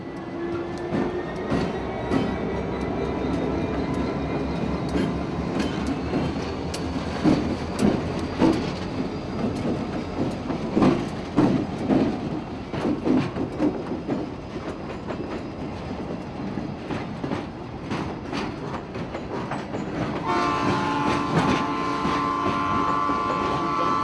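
A train rolls steadily through a turnout with power-assisted switches, rhythmic clattering of wheels over track joints, irregular clanks, and a squealing wheel screech near the end.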